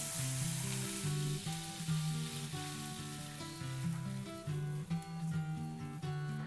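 Water hits a hot tempering in a pan for horse gram pithla, a steady hiss and sizzle continuing throughout while soft music plays underneath.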